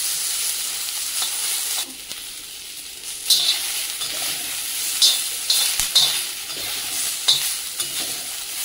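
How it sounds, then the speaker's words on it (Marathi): Green tomatoes roast in a pan over a medium gas flame, giving a steady close sizzle and hiss. Louder spits and crackles keep breaking through as the pieces are turned and stirred. "तर आपल्याला इथे हे टोमॅटो शिजवायचे नाहीयेत, तर चांगले भाजून घ्यायचे।"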